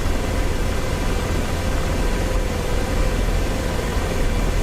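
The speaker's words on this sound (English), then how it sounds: "APU's coming on" An AH-64D Apache helicopter's APU starts up in DCS World, a steady, dense, broadband rushing whine that stays loud and even throughout, with no voices over it.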